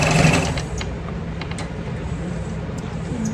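A sewing machine stitching a handbag, running steadily and close with a dense mechanical whir and rapid needle clatter, continuous with no pauses for the whole stretch.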